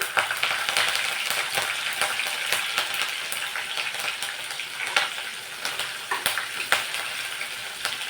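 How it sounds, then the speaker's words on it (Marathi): Garlic frying in hot oil in an iron kadhai, a steady bright sizzle with crackling pops and occasional stirring scrapes, close and continuous without any talking. "आता लसूण आपल्याला छान असा सोनेरी रंग येईपर्यंत तळून घ्यायचा तेलामध्ये"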